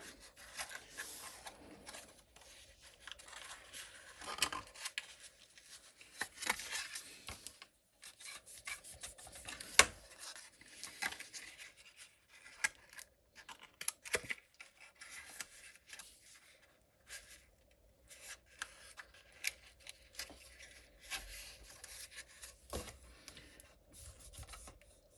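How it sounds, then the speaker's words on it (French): A bone folder rubbed and pressed over a glued paperboard box: quiet, dry scraping strokes in irregular bursts, close by, with pauses between passes. "Vous venez donner un petit coup avec votre plioir pour bien coller l'ensemble."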